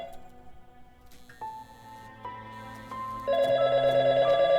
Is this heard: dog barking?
no